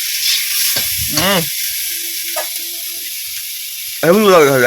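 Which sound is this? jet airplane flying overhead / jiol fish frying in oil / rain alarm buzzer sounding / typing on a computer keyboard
jiol fish frying in oil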